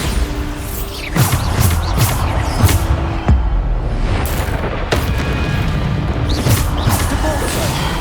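A Bombarda spell blast in Hogwarts Legacy, loud booming explosions and crashing impacts repeating through dense game combat noise, with a voice calling out spell names.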